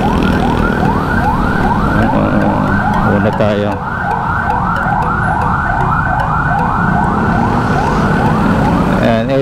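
Ambulance siren wailing in repeated rising-and-falling sweeps while passing in city traffic on EDSA, loud and close over a constant roar of road noise and vehicle engines, with a brief spoken phrase.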